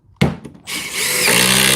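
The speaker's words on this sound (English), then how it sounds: "If we can do 1/4 inch aggressive threaded Tapcons into 2x4, it can do" A compact Milwaukee drill drives a 1/4 inch aggressive-threaded Tapcon screw into a 2x4, a sharp start followed by a loud, steadily rising whir as the screw bites in, close and alone.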